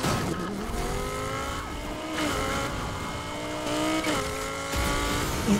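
Engines roar and tires squeal during a police car chase in Need for Speed Heat, with a Charger in pursuit; rising and falling revs with gear shifts and skids, loud and close throughout.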